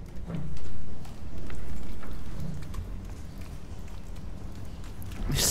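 Footsteps in the sci-fi horror game Soma, heard as a run of soft, muffled thuds with a gloopy, watery quality, fairly close and steady over a low background rumble.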